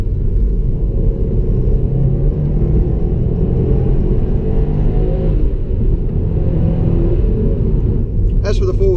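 A 2016 Subaru WRX STI pulls hard on a track, its engine a loud, steady low rumble heard from inside the car, continuous throughout with a brief higher burst at the very end.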